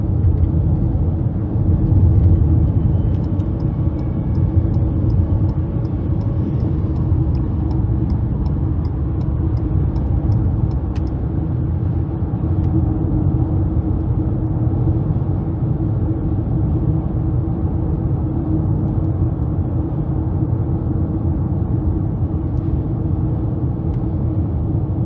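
Steady low road rumble and engine drone inside a 2023 Ford Maverick Hybrid XL with a 2.5-litre four-cylinder, cruising evenly with faint ticking clicks early on and no talk.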